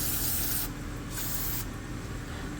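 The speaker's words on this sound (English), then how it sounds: "always clean after yourself with brake cleaner" A can of brake cleaner sprayed onto the underside of a Mercedes-AMG GT engine during an oil change, a close, continuous pressurized hiss that dips briefly partway and then carries on to the end.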